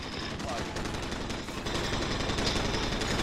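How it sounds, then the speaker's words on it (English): Gunfire in a Galil gameplay session of a video game: a continuous, dense rattle of rapid shots at moderate loudness, blending with background game noise throughout. "Stop shooting at me!"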